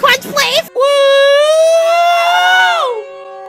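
A Siren Head creature character in a dating-themed animation lets out a loud, sustained wailing siren tone that holds steady for about two seconds then bends downward and fades, following a brief burst of speech.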